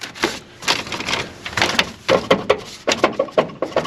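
Plastic trim clips rattle inside the cabin of an older Ford, a run of short sharp clicks and taps, irregular at first and then in a quicker cluster, close and fairly loud with no talking.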